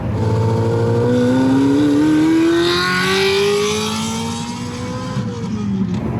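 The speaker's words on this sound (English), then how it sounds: "That thing has a Capristo exhaust on there." A BMW Z8 sports car engine with a Capristo exhaust roars loudly and revs up in a rising pitch, its exhaust note rich and throaty, continuous and close by.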